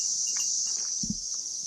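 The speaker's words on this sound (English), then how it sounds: "That's all you hear is cicadas." Cicadas drone outdoors in green Hokkaido countryside, a steady high-pitched continuous buzz running throughout with a faint footstep or rustle underneath.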